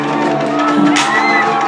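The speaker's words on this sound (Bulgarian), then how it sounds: "вашите бурни аплодисменти, нека да я посрещнем както заслужава" Club concert crowd roaring with applause, whoops and shouts, a dense sustained wall of cheering that swells briefly in the middle while a voice is partly audible over the noise.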